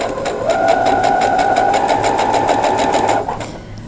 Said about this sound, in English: needle down, and now we're back to just simply sewing to the slit.